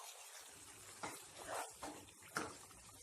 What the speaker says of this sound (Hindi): काजू, बादाम और हरी मिर्च की कच्ची बू जाने तक इसे भी हम अच्छे से भून लेते हैं।